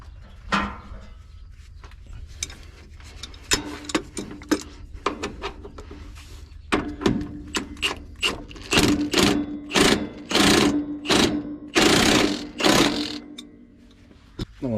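A ratchet tightens the nuts and bolts on the front shock absorbers of a 2015 Freightliner Coronado SD122 semi truck, with rapid clicking bursts that grow louder and denser toward the end, close and without talk.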